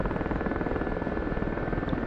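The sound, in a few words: powerful helicopter flying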